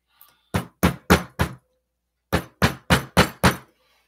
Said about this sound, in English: So if I could hammer it down a little.